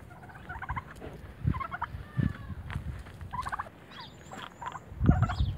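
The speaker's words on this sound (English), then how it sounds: "Well, hello, turkey. Turkeys, I should say." Several turkeys gobble in rapid warbling bursts, overlapping one another nearby, with soft scuffling and low clucks between calls.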